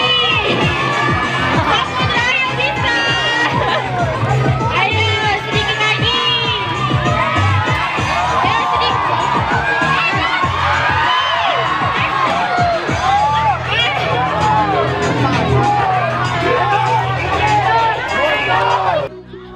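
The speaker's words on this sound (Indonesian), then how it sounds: "Saat acara panjat pinang, tepuk tangan dan sorak penonton terdengar berkali-kali untuk mendukung para peserta yang berusaha memanjat" Spectators at a village Independence Day pole-climbing contest shout and cheer without pause, a dense, loud crowd roar full of children's voices and whoops that barely lets up.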